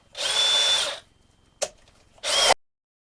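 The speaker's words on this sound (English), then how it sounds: "Drill a hole with a spade bit to give us an access point for our speaker, or for our jigsaw." A power drill bores a hole in wood with a spade bit in two loud bursts, about a second of high whirring, a brief click, then a shorter half-second burst, close by with no talk.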